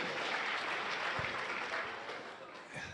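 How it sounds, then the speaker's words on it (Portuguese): An audience at an evangelical church service claps for the actors, a dense, even applause that holds steady and fades slightly toward the end. "Salva de palmas para os atores."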